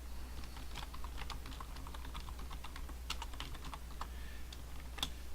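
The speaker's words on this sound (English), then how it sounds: "So I can type in" Fingers type quickly on a computer keyboard, producing a steady run of crisp, close key clicks with a few louder taps and no voices.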